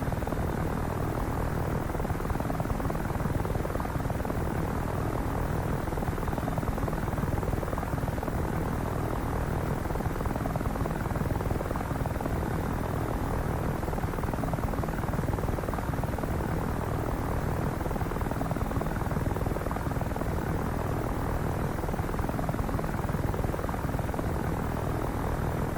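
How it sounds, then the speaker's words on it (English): An AH-6J Littlebird helicopter flies over Dubai in DCS World, with a steady, dense rotor and engine drone that holds without a break for the whole stretch. No voices are heard. "it is definitely a fun little chopper to kind of just zip around and have some fun"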